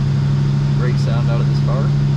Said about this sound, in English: This is a cold start. Pump it twice. She fires right up.